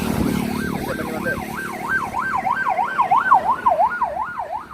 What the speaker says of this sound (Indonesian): Ambulan, Mat.